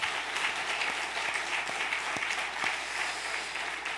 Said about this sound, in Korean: 우리 큰 박수로 격려하겠습니다